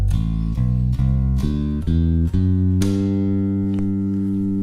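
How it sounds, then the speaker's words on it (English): Bass guitar playing a major scale, a series of sustained, evenly spaced notes stepping upward one after another and ending on a longer ringing note, clean and close with no talking. "That is called a major scale."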